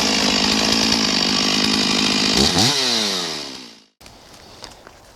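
A Stihl or Husqvarna chainsaw runs loud and close beside a pile of firewood, revving briefly, then winding down and cutting out, followed by a lower engine idle.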